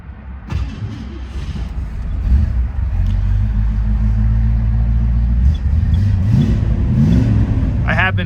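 A 390 V8 in a Mercury Cougar S Code convertible, already warm, cranks and catches with a sharp burst, then settles into a loud, steady, deep idle rumble with a few small revs near the end.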